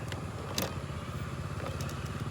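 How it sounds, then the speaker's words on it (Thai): Steady low rumble of road traffic with engines droning continuously, a couple of brief higher hisses as vehicles pass nearby; no talking. "ต้องขออภัยเสียงรบกวนด้วยนะครับ เสียงรถ"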